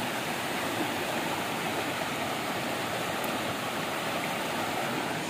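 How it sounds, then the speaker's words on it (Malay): A waterfall in Negeri Sembilan rushes in a steady, loud, broadband roar that stays constant throughout, close by, with no voices. "Ini air terjun ni kat sini."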